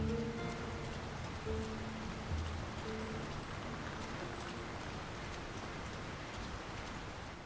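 Steady rainfall in a town in the fantasy action video game The Lord of the Rings: War in the North, a soft, continuous hiss of falling rain with faint tonal game ambience beneath, fairly quiet and without voices.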